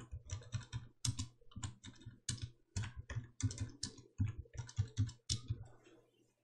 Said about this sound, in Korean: 엔터 눌러가며 계속 타이핑 하십니다